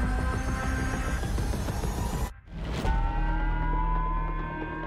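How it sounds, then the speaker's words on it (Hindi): A civil defense siren wails in Hokkaido, Japan, during a missile alert, its loud sustained tones holding steady, dropping out briefly midway, then resuming at a slightly shifted pitch. "जापान के होक्काइडो में सायरन बजने लगा है।"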